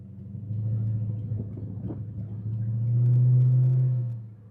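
Freshly started engine of a flood-damaged Dodge SRT8, a low rumbling idle that swells to a louder rev near the end before settling, heard up close with no talking.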